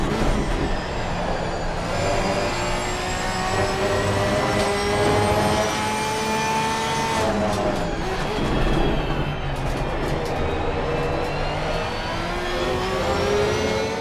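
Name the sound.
Porsche 992 GT3 race car engine revving to 8,000 RPM, from the video game Assetto Corsa Competizione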